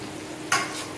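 Onion, garlic and ginger in hot oil give a quiet, brief sizzle: a faint frying hiss swells into one short burst midway, then settles back.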